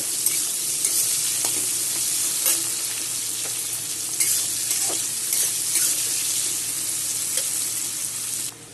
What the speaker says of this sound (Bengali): পেঁয়াজটা এখন আমি ভেজে নেব